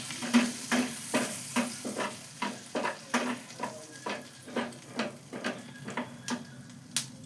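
Whole spices (cloves, cinnamon, nutmeg and two small cardamoms) fry in a pan with a soft sizzle. About a dozen evenly spaced stirring strokes tick against the pan, close and fairly quiet, with no talking.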